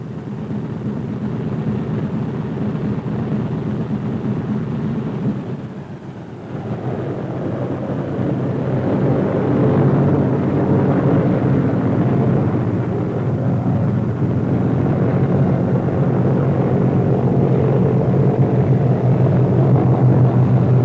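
Radial piston engines of a B-17 bomber drone loudly and continuously, dipping briefly and then rising to a stronger, steady roar as they are run up before shutdown.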